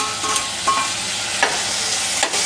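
Chopped tomato frying in a pan for spicy Maggi noodles, a loud, close sizzle broken by scraping stirs of a spoon every half second or so, with no voices.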